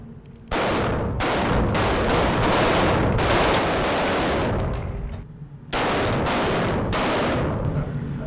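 FAMAS rifles firing at a shooting range, loud bursts of sharp, closely spaced shots in several volleys with brief pauses between them, ringing with range echo.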